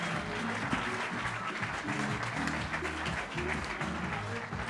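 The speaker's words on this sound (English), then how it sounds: "Un applause pour l'énergie de Ben Thouard." Continuous audience applause at an awards ceremony for an underwater photography image contest at Lumen Museum, Kronplatz, a moderately distant wash of clapping with a low murmur beneath.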